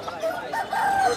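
Rooster crowing at a busy Mirpur-1 chicken market, a fairly loud, near call stretched over about a second with a rising, wavering tone against market noise.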